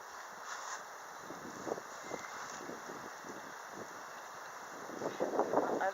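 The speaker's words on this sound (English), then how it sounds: "I'm just going to wait a second until the wind dies down a little bit" Gusty wind buffets the microphone outdoors during a beehive inspection, a steady broadband rush that swells louder toward the end, with faint voices underneath.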